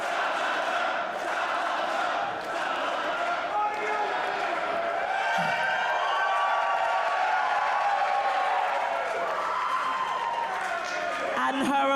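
A women's wrestling crowd roars and cheers for a debuting wrestler, a sustained loud wall of voices with shouts and chanting that holds steady throughout.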